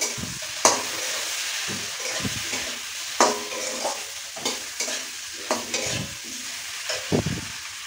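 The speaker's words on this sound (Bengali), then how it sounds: "মশলাটা দিয়ে ভালো করে কষিয়ে নেবো।" Ground cumin, chili, coriander, turmeric and salt fry in a pan with tomato, potato and onion, a steady sizzle broken by repeated spoon scrapes and clinks against the pan, close up with no talking.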